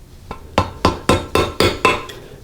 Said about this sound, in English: So I use a screwdriver and a hammer to just pound that tab back out of the way.